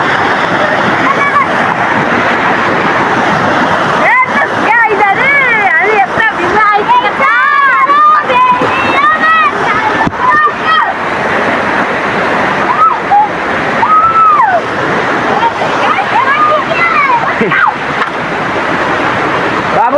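Water splashes loudly and constantly as people fool around in water, flinging it at one another, with a dense wash of spray and rushing water under lively shouting and chatter.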